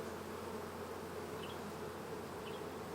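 Steady, dense buzzing of many honey bees in a newly installed nuc hive, a close, continuous hum with no pauses and no talking.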